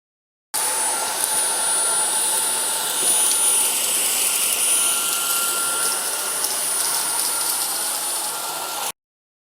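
Jimmy JV65 stick vacuum cleaner running at maximum power with its fluffy brush head on carpet, a loud steady high-pitched whine and airflow roar that starts abruptly and runs unbroken for about eight seconds before stopping.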